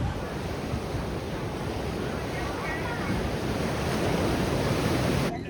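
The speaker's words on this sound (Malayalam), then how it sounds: "ശക്തമായ തിരമാലയാ." Strong ocean waves break on a windy beach, making a loud, continuous close roar with heavy wind buffeting the microphone throughout.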